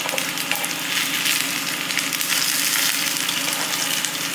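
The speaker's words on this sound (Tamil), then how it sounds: "இந்த சட்டிக்கு வந்து நம்ம கடலப்பருப்பு போட்டு தான் தாளிக்கணும்" Steady, loud crackling sizzle of chana dal frying in hot oil in a pan for tempering, continuous and close with no voices.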